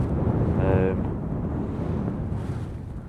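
Wind gusting across the summit of Red Screes in the Lake District, a steady close roar buffeting the microphone, loud and continuous throughout.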